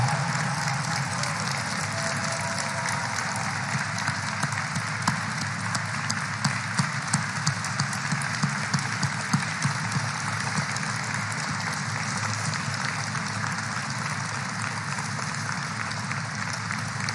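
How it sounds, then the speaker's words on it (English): Sustained, vigorous applause from a large audience at Kennedy Space Center, honoring astronauts Bob Behnken and Doug Hurley after a NASA and SpaceX launch; dense, steady clapping fills the whole stretch at an even level with no talk. "Would you join me in giving a vigorous round of applause to Commander Bob Behnken and Commander Doug"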